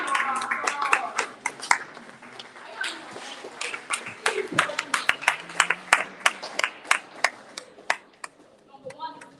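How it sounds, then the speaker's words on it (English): A small seminar audience gives a round of applause: scattered, uneven individual claps, fairly quiet, with talk around them. "A round of applause."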